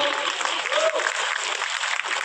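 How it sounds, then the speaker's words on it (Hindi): Crowd at an RCM 25th anniversary celebration in Bhilwara, Rajasthan claps in a brief, dense burst of many hands, steady and fairly loud throughout. "एक बार हाथताली हो जाए।"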